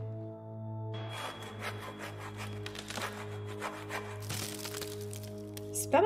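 Sawing in a horror video game, a steady rough rasp of a saw cutting wood over a constant low droning tone from the game, with a brief crack near the end.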